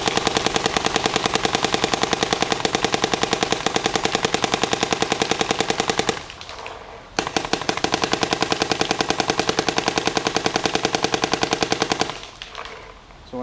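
A Dye DLS paintball marker with a V2 bolt firing Valken Infinity paint outdoors in fast, evenly spaced full-auto strings, loud and close, in two long bursts separated by a short pause.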